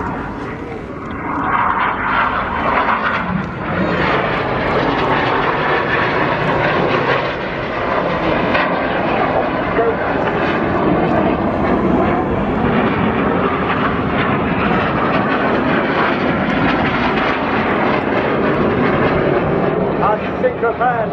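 The Red Arrows synchro pair of jet aircraft fly past at the Eastbourne airshow, a loud continuous roar that swells and lingers for a long stretch as an announcer talks over it.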